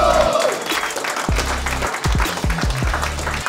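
Audience applause at a live comedy battle show, a dense wash of clapping from a studio crowd that holds steady for several seconds with a few low thumps underneath.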